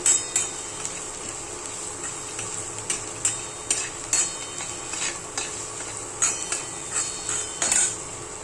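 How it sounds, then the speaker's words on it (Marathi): Spices being stirred and fried in oil in a pan for a green bean (ghevda) vegetable dish, with repeated metal spoon scrapes and clinks against the pan over a steady sizzle, close and fairly loud, no talking. "तर तेलामध्ये मसाले चांगले परतवून द्यायचे आहेत, तेल सुटेपर्यंत."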